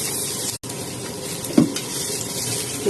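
Ginger and garlic sizzle in oil in a wok over a low flame, a steady crackling fry with occasional stirring scrapes and one brief clank, and no one talking.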